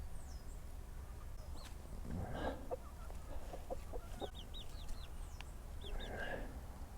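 Soft, scattered clucks from a few chickens at a distance, with higher bird chirps mixed in over a quiet outdoor hiss.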